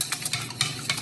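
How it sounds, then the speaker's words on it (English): Three eggs beaten in a big bowl, a quick run of close whisking taps and swishes in a steady rhythm, short and fairly loud with no talk. "that's 3 eggs beaten. I can beat them a little better in this big bowl."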